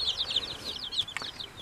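High, rapid peeping and soft chirps from 36 young Barred Rock chickens in an insulated fish tote, close by and continuous for a moment, with no talking.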